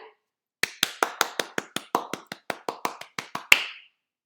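One person claps hands to act out a verb in a classroom guessing game, about fifteen crisp, evenly spaced claps heard close and alone, ending with a slightly louder final clap.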